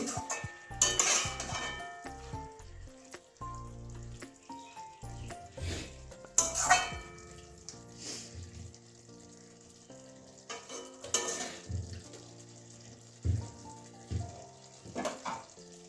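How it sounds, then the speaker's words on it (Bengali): A bean and potato curry fries on low heat while a spoon stirs it, with a soft sizzle throughout and repeated sharp clanks of the spoon against the pan at irregular intervals. "ভালো করে মিশিয়ে নিচ্ছি একদম লোতে রেখেছি"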